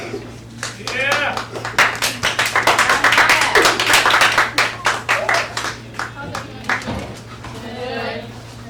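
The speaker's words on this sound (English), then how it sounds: "Give her a round of applause." Audience clapping for a speaker at an event, a burst of rhythmic hand claps building to a dense peak then thinning out, with voices cheering alongside.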